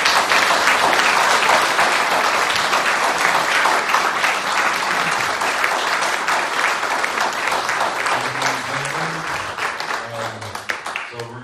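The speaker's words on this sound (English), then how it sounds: "Let's give these candidates a round of applause." Sustained audience applause for state representative candidates at a Legislative District 10 community council forum, loud and steady throughout, with faint voices mixed in near the end.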